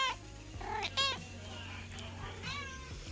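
A pet cat meows several times close by, short rising and falling cries with a soft room hum behind them.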